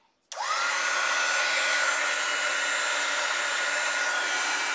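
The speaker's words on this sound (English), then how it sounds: "Use my heat tool." A craft heat tool for embossing switches on with a sudden click, then blows hot air as a loud, steady, close-up whir that holds evenly to the end.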